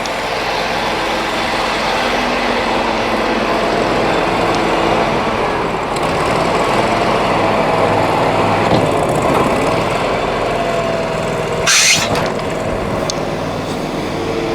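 A HotJet 2 trailer-mounted jetter with a 37 HP fuel-injected engine runs steadily while jetting a pipe, a loud, constant engine drone with a brief sharp burst near the end and no talk.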